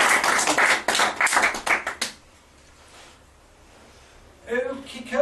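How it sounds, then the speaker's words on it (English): A live audience gives a round of applause at a talk on psychology and mental health, a dense burst of clapping for about two seconds that cuts off into near silence before a voice speaks at the end. "We'll give them a round of applause for"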